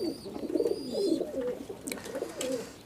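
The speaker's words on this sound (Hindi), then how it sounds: "आप देख सकते हो कि मैंने एक अपने हाथ में कबूतर पकड़ रखा है" A pigeon held in the hand gives soft, repeated throaty coos in a steady rhythm, close and fairly quiet, with faint chirps and background noise.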